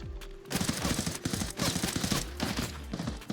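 Gunfire in the shooter game Arena Breakout Infinite: bursts of rapid shots crack in quick succession with thuddy footsteps underneath, fairly loud and close.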